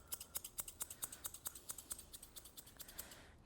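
Rapid, steady snipping of scissors giving a Bichon puppy a light fur trim, about twenty crisp close cuts in quick rhythm with no talking.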